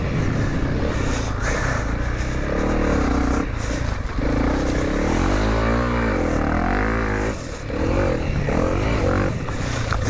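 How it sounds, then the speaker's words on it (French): A Honda CRF 300 L dual-sport motorcycle engine revs and labors continuously, pitch rising and falling as the bike works over a rough, muddy trail, close and loud throughout. "c'est quand même une moto de cross, hein, c'est une 300 CRF"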